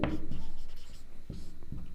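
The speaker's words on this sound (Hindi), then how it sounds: "यहाँ लिखेंगे समबाहु" Marker or chalk strokes on a board during a Hindi geometry lesson on Heron's formula, a few scratchy writing strokes close up with no speech.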